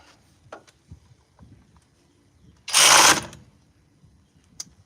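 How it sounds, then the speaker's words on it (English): A torque wrench ratchets on a wheel hub bolt during a hub replacement, one loud half-second burst of rapid clicking that stands out over faint handling noises and small knocks. "Torque these down."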